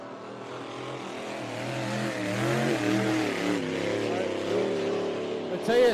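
A racing hydroplane boat powered by a supercharged 27-litre Rolls-Royce Merlin aircraft engine from a World War II Spitfire, roaring with a deep rising and wavering drone that grows louder, while a commentator talks over it throughout.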